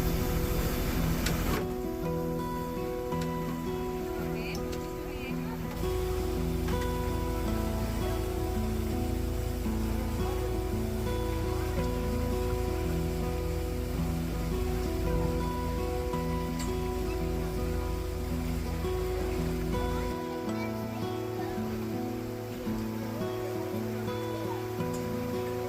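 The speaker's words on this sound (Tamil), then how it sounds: "செம்மையாக மழை பெஞ்சிக்கிட்டு இருக்கு" Heavy rain pours down during a boat ride at Thekkady, a steady dense hiss that lasts throughout, mixed with the continuous drone of the boat's engine.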